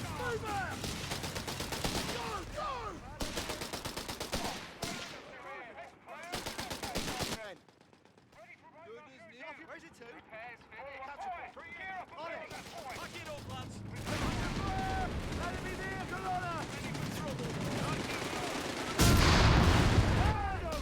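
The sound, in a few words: flak guns and gunfire in Company of Heroes 3 video game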